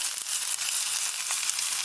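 Corned beef hash fries in a frying pan with a steady, close, dense sizzle that holds an even level throughout, with faint crackles in it and no talking.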